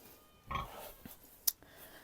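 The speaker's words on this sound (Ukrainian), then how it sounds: "Сьогодні, нарешті, будемо переганяти свинку з катаком." A pig grunts while being driven into a new pen on a village farm, a single short snort near the microphone followed by scattered knocks and rustles in a quiet outdoor setting.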